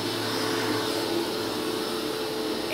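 A very loud vacuum cleaner roars steadily and close by, a dense, unbroken whine with no speech over it.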